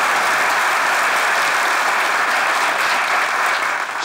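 Theatre audience applauding at the opening of a comedy stage show, dense and steady clapping from a large crowd filling the whole stretch at full loudness before tapering slightly at the end.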